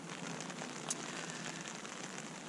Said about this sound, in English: You can't open this up or the rain comes straight through onto the ground sheet.